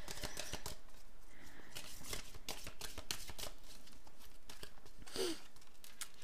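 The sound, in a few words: shuffling and drawing Médéors oracle cards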